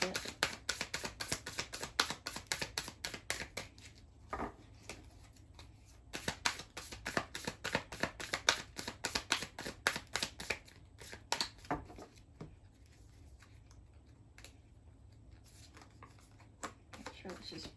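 A deck of cards is shuffled and handled, its rapid papery flicks and clicks coming in dense bursts with pauses between, close up, while a voice talks quietly.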